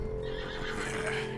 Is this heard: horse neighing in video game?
yes